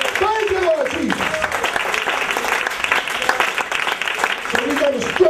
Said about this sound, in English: let's give the Lord a hand clap of praise just for that